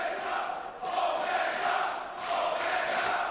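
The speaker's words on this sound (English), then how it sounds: "hearing the whole crowd here chant for the Bullet Club" A wrestling crowd chanting in an arena, a large mass of voices rising and falling in rhythmic waves, loud and sustained with no single voice standing out.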